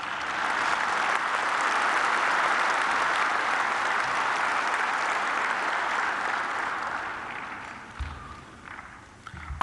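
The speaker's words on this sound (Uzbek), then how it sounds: "Hammaga qarsak cholayapsizlar, yoqadi" Sustained applause from an audience in a large hall, a dense, even wash of many hands clapping that holds steady and then fades out near the end.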